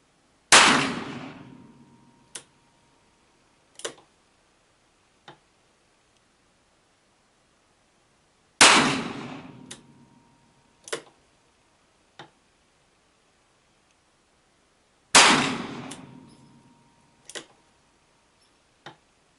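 Three loud, close pistol shots spaced several seconds apart, each a .38 wadcutter fired from a Ransom rest at a range, with a decaying report followed by sharp metallic clicks and clanks from the mechanism.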